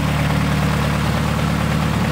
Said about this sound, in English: I can finally hear the engine. The engine is sounding nice and healthy.